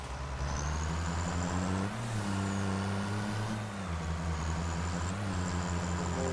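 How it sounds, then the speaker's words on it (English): A truck engine in a farming video game labors up a hill as a loud, steady low drone that shifts pitch a couple of times, continuous throughout with no talk. "This truck is fast, though."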